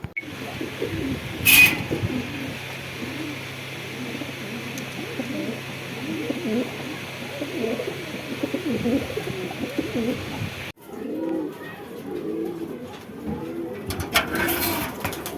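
Pakistani Giribaz pigeons coo in soft repeated rolling calls, several birds overlapping close by, with a brief loud clatter near the start and an abrupt cut partway through.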